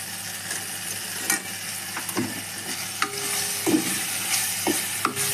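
Tomato cooking in a pan on low heat is stirred after turmeric is added, with a soft continuous sizzle and a series of sharp spoon scrapes and taps against the pan, close and alone.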